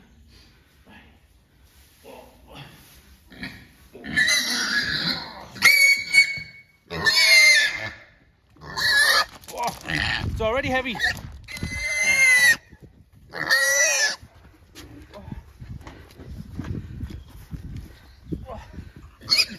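Loud, piercing squeals from pigs being lifted and moved come in repeated bursts, close by, with people talking and handling noises in between.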